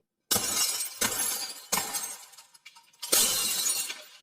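Glass lab beakers smash four times in a row, each break a loud, sharp shatter that trails into tinkling shards and then short pauses of quiet.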